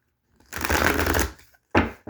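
A deck of cards is riffle-shuffled up close, one long rapid flutter followed by a couple of short snaps as the cards settle.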